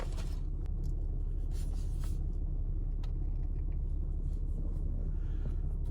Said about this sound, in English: I got the truck warming up.